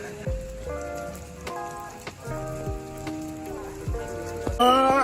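Heavy rain on the trek to Devkund waterfall makes a dense, continuous patter on surfaces, loud and close throughout, with a few tonal sounds mixed in and no speech.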